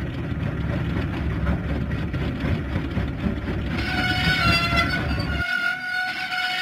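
Diesel engine Salty setting off in a Thomas & Friends video game: a loud, steady train rumble and clatter that cuts to a bright, higher whining tone partway through, then the low rumble drops out near the end.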